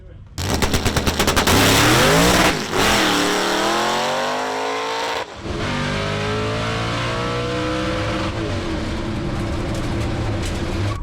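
A drag race car fires up and makes a pass, starting with a harsh staccato crackle, then a loud sustained howl climbing in pitch through the gears with a brief break partway, heard close and alone.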